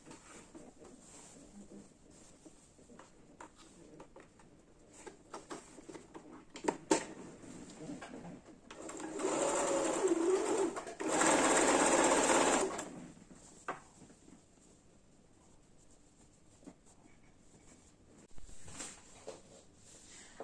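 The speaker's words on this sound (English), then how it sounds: "So now I am sewing it." A sewing machine stitches pinned fabric for a basic wrap top. Two loud continuous bursts of running stitches stand out over quieter handling noises.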